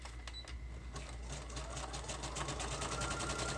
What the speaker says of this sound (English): I do want to get those edges sewn down